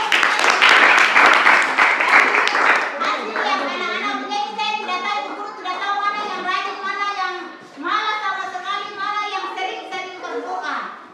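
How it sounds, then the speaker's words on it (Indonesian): Students in a classroom clap together in a loud, busy burst lasting a few seconds, then the applause gives way to children's voices talking and chanting. "berarti semua sudah berikan aplaus dulu."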